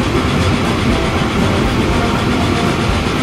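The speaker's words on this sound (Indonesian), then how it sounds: "Jadi kita tunggu aja nih si keretanya bolak-balik mengantarkan gandumnya." A freight train in Transport Fever 2 rolls steadily along the rails hauling wheat, a loud, continuous rumble with faint rhythmic clacking and no pauses.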